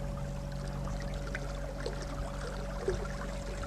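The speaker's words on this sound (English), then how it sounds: "this trolling motor is probably the fastest I've ever used" A Garmin trolling motor runs flat out as the boat moves quickly through trees, giving a steady, loud hum with a constant drone and splashing water throughout.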